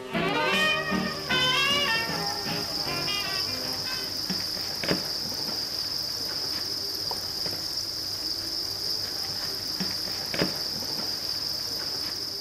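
Crickets on a cricket farm keep up a dense, steady, close-up chorus of shrill chirping throughout, with a few other brief sounds at the start.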